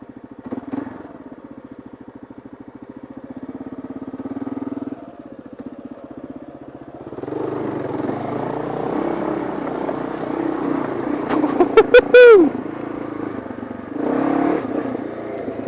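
A Kawasaki KLR650 motorcycle rides through a creek crossing, its engine chugging at low revs, then rising to a louder, steady drone with water splashing and brief clattering bursts partway through.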